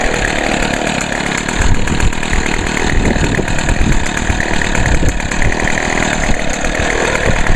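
A Poulan Pro PP125 gas string trimmer, a two-stroke run on 40-to-1 gas-oil mix, runs steadily up close with a loud, continuous buzzing drone and no talking.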